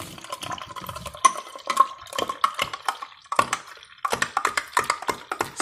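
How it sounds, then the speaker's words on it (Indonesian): A spoon stirs a milk drink in a glass, giving quick clinking taps and liquid swirls close by in a steady irregular rhythm, with no talking. "sambil diaduk ya"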